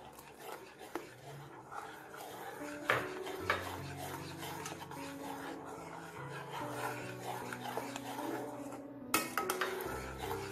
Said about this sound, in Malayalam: നല്ലോണം മിക്സ് ചെയ്ത് യോജിപ്പിക്കുക.